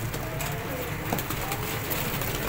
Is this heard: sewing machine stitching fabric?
no